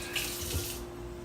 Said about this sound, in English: I'm going to put this in the sink. Rinse off my hands real quick.